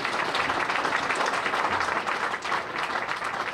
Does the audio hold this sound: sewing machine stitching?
no